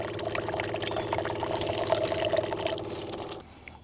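A continuous stream of water pours and splashes steadily for a few seconds from a portable reverse osmosis water purifier over a low mechanical hum, then stops abruptly.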